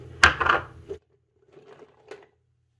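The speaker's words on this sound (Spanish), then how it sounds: "en un recipiente con el vaso de una licuadora agregamos los hielos" A burst of hard clattering as ice cubes tumble into a blender jar, followed by a few softer clinks and rattles.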